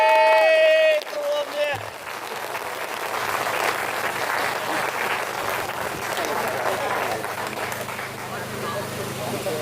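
Crowd applause at an outdoor protest against mass immigration at Stormont, a broad sustained wash of clapping and cheering that follows a brief voice and fills the remaining seconds at a steady level.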